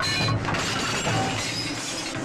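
Glass shatters and things are smashed in a loud, sustained crash of breaking debris lasting a couple of seconds.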